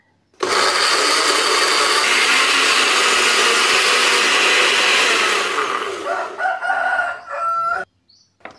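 A Mecoo 4 in 1 electric chopper whirs loudly as it grinds spices with coriander and a little water. A steady, dense motor roar runs for several seconds, then sputters in short bursts before it stops.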